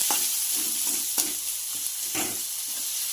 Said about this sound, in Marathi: जरा कांदा परतवून घेते.